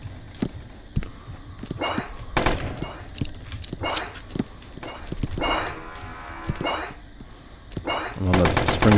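A chain gun fires in the 2D shooter Boring Man, sharp rapid bursts of shots cutting in and out, ending in a dense, loud volley, with a voice talking between them.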